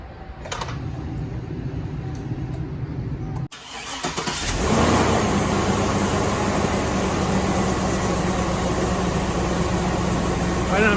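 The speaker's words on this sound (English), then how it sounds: "I'm gonna go ahead and turn this over and start it" A car engine cranks briefly and catches, powered by a Booster Pac ES5000 portable jump starter, then settles into a steady, loud idle with a hum running throughout.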